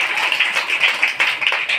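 Devotees at a Krishna birth celebration clap together in a dense, continuous round of applause, close and lively with uneven overlapping hand claps.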